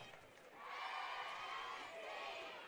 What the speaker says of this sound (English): And a great crowd here for homecoming tonight.